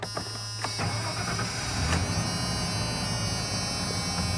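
A 1995 Ford F-150 XL pickup with the 5.0 engine cranks briefly, catches and settles into a steady running hum with a faint whine, close by and without talk.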